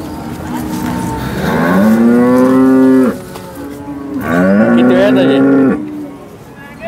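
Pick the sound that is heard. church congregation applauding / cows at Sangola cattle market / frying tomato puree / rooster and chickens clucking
cows at Sangola cattle market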